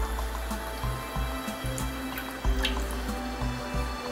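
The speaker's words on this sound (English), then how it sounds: "I'm going to add in my yeast and my sugar. Got a little stir just so I get hydrated." Yeast and sugar being stirred into water for thin-crust New York–New Jersey style pizza dough, mixed by hand: a quiet, steady run of soft clinks and watery swishes from a utensil moving around a bowl, close by and without talk.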